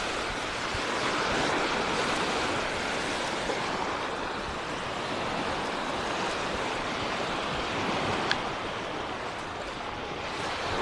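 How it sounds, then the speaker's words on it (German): Steady surf rolls onto Kumköy beach at sunset, a continuous wash of breaking waves and hiss with some wind on the microphone, full and close, without voices. "der Strand zwischen dem Dream Water World Hotel und dem Oleander Hotel gewesen"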